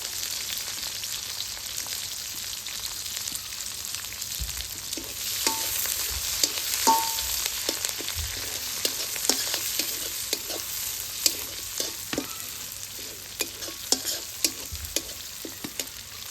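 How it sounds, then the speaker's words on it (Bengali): Chopped onions and green chilies frying in a pan for a jute-leaf and shrimp dish, a steady broadband sizzle with scattered spoon scrapes and clicks of stirring throughout, no voices. "পেঁয়াজ ভাজা ভাজা হয়ে গেছে"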